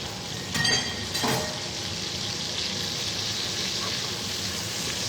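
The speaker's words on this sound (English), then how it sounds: "I'm also going to put a little bit of minced garlic in there." Minced garlic sizzles in a frying pan with lemon, a steady broadband hiss of frying with a couple of brief louder bursts, as if stirred or added, near and alone.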